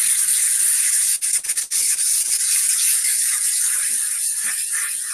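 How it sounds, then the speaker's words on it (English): Tabletop wargame terrain piece roughed up with 120 grit sandpaper, continuous loud close scratchy rubbing with a few brief breaks between strokes. "I believe I'm using 120 grit sandpaper just to get it rough."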